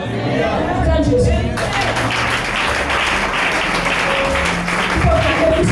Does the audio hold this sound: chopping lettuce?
no